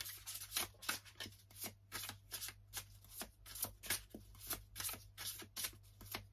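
Tarot cards shuffled by hand for a reading, a steady run of quick riffling bursts, close and fairly soft, repeating about twice a second with no talk.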